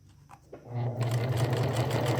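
A sewing machine stitching a seam on a basic skirt starts up after a couple of light clicks and handling sounds, then runs in a steady, close, whirring hum to the end.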